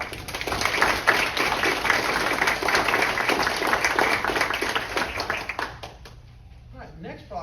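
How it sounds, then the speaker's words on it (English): Applause for police officers at a city council meeting in Litchfield, Illinois: a steady burst of clapping from the room that fades out toward the end, with a few scattered claps after. "a round of applause for all of our officers"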